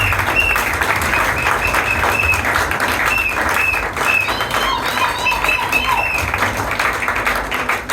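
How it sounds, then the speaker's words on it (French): A congregation at a church service applauds together in a steady, dense wash of clapping that runs unbroken from start to finish, with some faint cheers and voices rising inside the crowd. "So clap for yourself."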